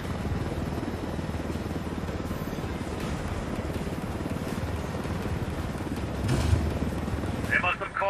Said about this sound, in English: This helicopter's proof of what the Russians are up to.